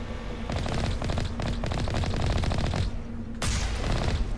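Mercenaries fire rapid automatic bursts at the player's vehicle in the game Mass Effect, a dense rattling fusillade of close, loud shots that runs for about four seconds with a short break near the end.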